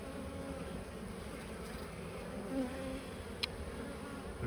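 Honeybees on a lifted hive frame drone in a dense, continuous buzz close by, with a few individual bees whining past louder for a moment over the steady swarm hum.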